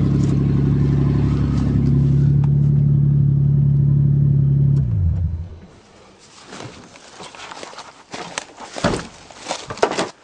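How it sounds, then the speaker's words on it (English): A Toyota engine running after seven years parked in a forest, a steady loud idle hum that cuts off around five seconds, followed by quieter outdoor rustling and knocks. "This thing fired up like it was running yesterday, and it hasn't been running since the summer of 2000."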